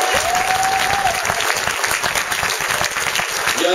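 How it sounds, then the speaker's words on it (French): Dense, sustained applause from a festival audience at Notre-Dame-de-Pierreville, loud and close, with a few faint voices and a brief whistle mixed into the clapping. "Un bon courant d'applaudissements pour tout le"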